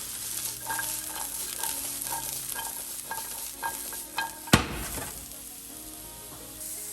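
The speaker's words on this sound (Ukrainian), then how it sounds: "І обсмажуємо спочатку їх." Button mushrooms fry in a pan for a lentil risotto, with an even sizzle and rhythmic stirring scrapes repeating about every half second, then a single loud clank before the frying settles into a quieter hiss; no speech.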